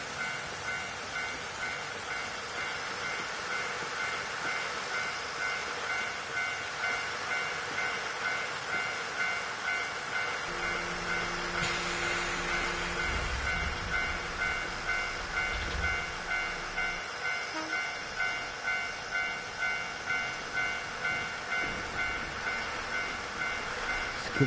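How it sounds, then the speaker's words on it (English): Railroad crossing bell and passing train in the Nostalgia Train video game set in Japan, a steady ringing crossing signal repeating throughout with low rumbling train passage in the middle, no talking. "And there it is, the sound of the railroad crossing."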